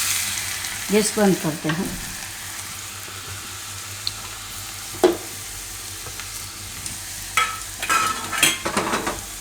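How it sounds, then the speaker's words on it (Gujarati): Garlic fried in hot oil for a Gujarati bitter gourd (karela) chutney makes a soft, steady sizzle with a few stirring clinks. A brief voice speaks near the start. "તો હવે તેલ ગરમ થઈ ગયું. એમાં આપણે નાખશું પહેલાં લસણ."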